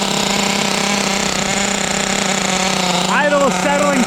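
OS 21 nitro engine idling in a Traxxas T-Maxx RC truck, a loud, close, rapid buzzing rattle held steady throughout, with a person talking over it near the end.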